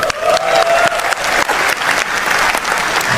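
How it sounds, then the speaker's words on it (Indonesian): A crowd claps at a stand-up comedy show, loud dense applause filling the room continuously from start to finish, with no talk over it. "yang bangga jadi orang Indonesia coba tepuk tangan"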